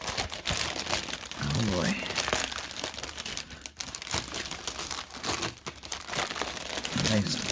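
Plastic packaging around a set of 1800 thread count Egyptian cotton queen bed sheets crinkles and rustles steadily throughout, close and fairly loud, with someone briefly speaking over it.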